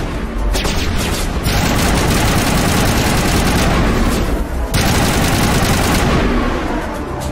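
Sustained battle gunfire from Mass Effect Legendary Edition on Eden Prime, loud and continuous, with dense overlapping shots and booms filling the whole stretch and only brief dips.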